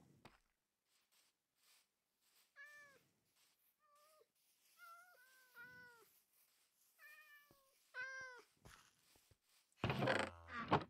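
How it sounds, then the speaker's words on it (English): A Minecraft cat meows repeatedly in the game, around half a dozen clear, plaintive mews spread unevenly across a quiet background, followed by a brief loud rustling burst at the end. "Don't cats spawn near villagers?"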